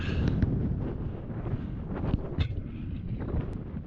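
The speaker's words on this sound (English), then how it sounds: "Wind's getting up now" Wind gusts across a rocky mountainside near Tryfan's north face, a steady loud rushing that buffets the microphone throughout with brief stronger surges.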